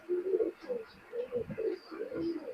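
Pakistani high-flying pigeons coo close by in soft, repeated rounded calls with brief pauses between them, a low-level background murmur underneath and no talk.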